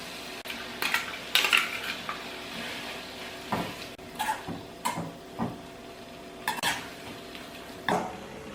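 Ground coconut goes into cucumber pachadi in a cooking pot and gets stirred: scattered scrapes and knocks of a spoon against the pot come in short bursts with pauses, set over a faint sizzle and no voices.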